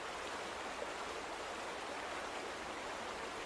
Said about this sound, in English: So this is water that is actually moving the way that water moves.